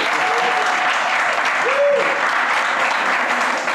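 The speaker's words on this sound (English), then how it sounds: "I think that deserves a round of applause," Audience applause at a live Edinburgh Festival programme, with brisk, steady clapping from the crowd that carries on for a few seconds while a voice is heard faintly beneath it.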